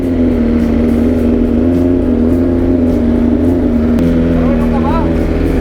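A BMW M1000RR motorcycle engine drones steadily up close at a loud idle with a slight rise in pitch, while people talk over it throughout.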